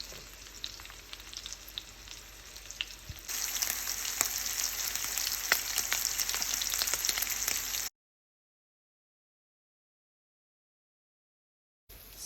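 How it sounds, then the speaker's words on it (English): Short ribs saute and brown in an Instant Pot, a steady close sizzle of meat in hot fat with crackling pops that grows louder partway through, then cuts to silence before resuming briefly. "we're going to go ahead and saute these, and then we're going to brown off the other 4"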